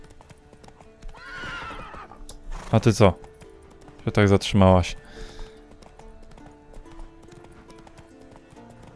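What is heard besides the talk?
glitched horse hooves clip-clopping in The Witcher 3 video game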